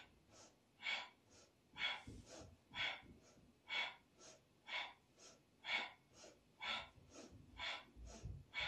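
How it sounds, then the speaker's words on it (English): Fast, forceful rhythmic breaths during an energizing breathing exercise, about sixteen sharp puffs at a steady quick pace, close and fairly loud with no talking. "you might go a little faster with a powerful breath"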